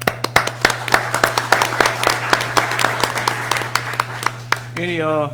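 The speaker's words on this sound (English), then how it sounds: "we clap for him" Attendees at a school board meeting applaud an absent high school student's honorable mention with scattered, sharp claps over a steady electrical hum, fading into a voice at the end.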